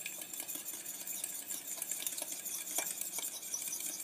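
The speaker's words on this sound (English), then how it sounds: "And then I'm going to stir it one more time." A fork stirs a drink or mixture after a sprinkle of Truvia sweetener, producing soft scraping and light metallic clinks at close range, quiet and continuous.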